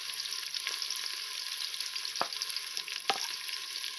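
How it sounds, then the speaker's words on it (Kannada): Onion, green chilli, garlic and ginger fry in a pan for prawn biryani, giving a steady close sizzle with two brief sharp clicks of a spoon against the pan partway through, no talking. "ಇವಾಗ ಚೆನ್ನಾಗಿ ಫ್ರೈ ಆಗ್ತಾ ಇದೆ."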